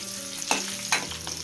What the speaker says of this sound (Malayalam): അവരെല്ലാം കൂടെ കിടന്നൊന്ന് വറക്കട്ടെ. കടുക് വറ കേട്ടോ.